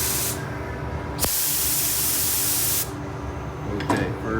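A paint spray gun at about 18 to 20 psi lays a first coat in two long, loud hissing bursts, the second cut off abruptly, with quieter pauses between.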